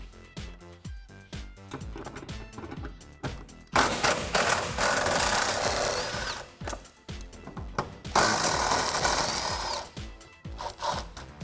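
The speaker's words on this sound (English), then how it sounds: "you're gonna pull the 2 bolts down here using a 15mm socket" Power tool with a 15mm socket pulling two bolts from the rear bumper of a 2009-2018 Ram 1500, two loud bursts of ratcheting whirr separated by pauses and handling clicks, close up with no talk.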